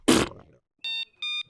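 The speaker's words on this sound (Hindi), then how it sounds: "इतनी जोरों से खर्राटे ले रहा है, ऐसे लग रहा है जैसे शेर बाजू में सो रहा है" A loud, exaggerated snore in a comedy serial: one harsh, rasping snort up close, then a pause and two short, clean electronic beeps.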